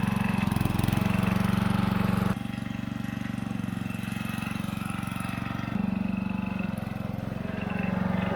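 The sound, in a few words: Towford 38 ride-on mower engine driving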